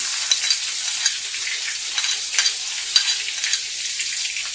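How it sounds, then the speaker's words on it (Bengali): Chopped onions frying in hot oil for a prawn khichuri, a dense continuous sizzle close by with small crackles and occasional stirring scrapes, no talk. "এরপর এই একই তেলে আমরা দিব পেঁয়াজ কুচি"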